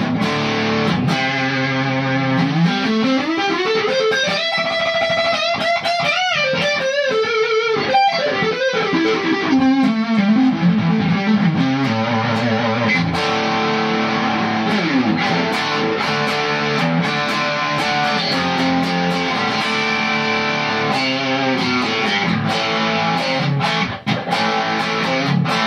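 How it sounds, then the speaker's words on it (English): Electric guitar played through an amp's gain channel, heavily distorted straight from the amp, with sustained chords and a sliding lead line ringing out loud and continuous for the whole stretch. "And now that is just pure distorted from the amp."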